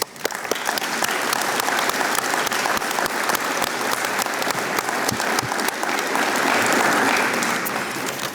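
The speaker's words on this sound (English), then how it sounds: "We would like just to give you a round of applause for your service." A crowd at a high school awards day ceremony gives sustained applause, a thick, even wash of many hands clapping for over eight seconds, with no talking heard over it.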